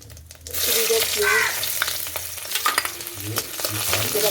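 Dried chili, bay leaf and whole cumin crackle and sizzle in hot oil for a lauki dal, a steady frying hiss with stirring scrapes and low pan knocks, close and fairly loud after a brief quiet start.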